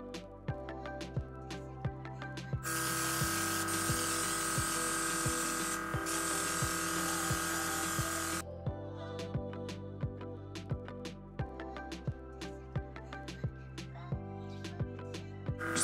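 Airbrush spraying DINAIR Velvet foundation in Light Golden Beige onto a face, a steady hiss of compressed air running for several seconds over background music, then cutting off.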